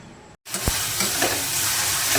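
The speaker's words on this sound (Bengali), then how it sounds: "ঘুগনির মশলা কষানো চলছে" Ghugni spice masala of onion, garlic, ginger, green chilli and ground coriander frying in a pan, a loud, continuous close sizzle starting abruptly after a short gap, with a few stirring knocks.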